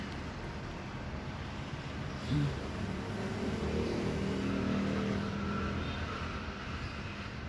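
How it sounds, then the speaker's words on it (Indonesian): Steady road traffic rumbles throughout, with passing car and motorbike engines and exhausts and a brief louder vehicle surge midway, fairly close and continuous. "kalau mendengar suara knalpot atau klakson dari mobil maupun motor"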